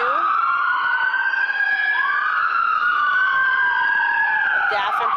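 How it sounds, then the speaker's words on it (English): Ambulance siren passing a park in Savannah, Georgia, a loud continuous wailing tone rising and falling steadily as it goes by, with a person talking underneath. "It's a little bit noisy right now as the ambulance is going by."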